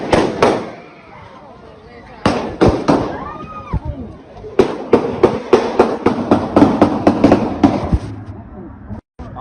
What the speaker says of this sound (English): Gunshots rang out and chaos erupted.